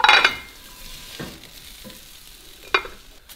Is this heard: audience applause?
no